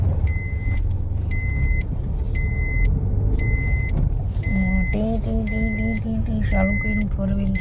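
A four-wheeler car on a town main-bazaar street runs steadily with a continuous engine drone and road noise, while repeated electronic beeps chirp in a regular pattern over it and a rising tonal whine enters later, with voices in the background.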